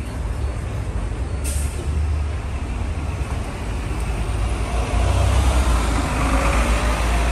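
City bus number 63 pulls up to a Paris stop amid street traffic, its engine rumbling low with a sharp hiss of air brakes, then a steady idling drone.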